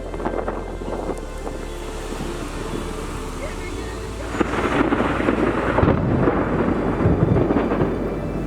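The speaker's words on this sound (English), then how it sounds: "It's thundering and lightning." Thunder rolls during a storm, a low steady rumble that builds midway into heavier, gusty bursts, heard outdoors with wind buffeting the microphone.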